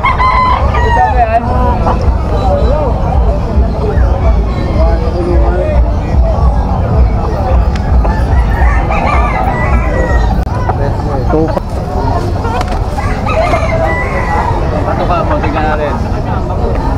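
Hatch Gray gamecock stags crow and cluck amid a busy Malabon pet market, the birds close and loud over steady crowd chatter, with people talking and bargaining throughout.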